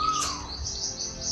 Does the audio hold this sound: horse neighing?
no